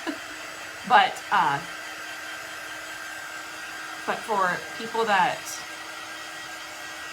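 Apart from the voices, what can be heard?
hair dryer-like heat tool blowing air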